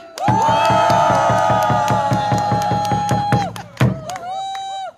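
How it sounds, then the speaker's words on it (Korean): Crowd at a candlelight rally in Gimcheon cheers and shouts together, loud and close, a sustained roar with rhythmic pulses and a whistle-like tone, breaking briefly before a second burst rises. "함성 시작!"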